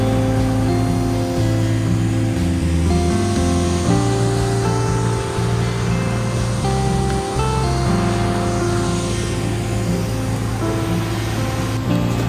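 Dunsulan Falls in Bataan, a waterfall about 5 meters high, gives a steady, loud rushing roar of falling water that holds constant throughout with no voices.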